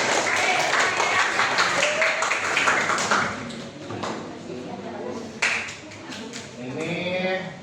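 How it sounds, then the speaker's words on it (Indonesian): A roomful of people applauds together, with dense, fast clapping for about three seconds that thins into scattered claps and then gives way to voices. "Tepuk tangan untuk semuanya."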